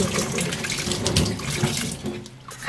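Tap water runs steadily into a sink as thawed octopus is rinsed by hand, a continuous close splashing with faint handling noises and no talking.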